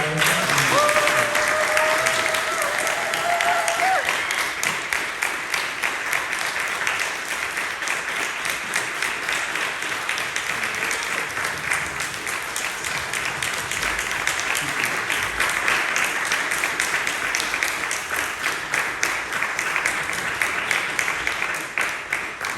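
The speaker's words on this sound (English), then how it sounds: "Let's have a round of applause for Brian." Sustained applause from an audience at a community gathering on Pan-African religion in Houston, a steady dense clapping that fills the space for over twenty seconds, with a brief voice audible near the start.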